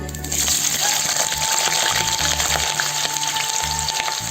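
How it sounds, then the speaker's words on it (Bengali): Potatoes frying in hot oil, a loud continuous close sizzle with crackling pops throughout. "এই তেলে আমি না আলু কটা ভেজে নেবো"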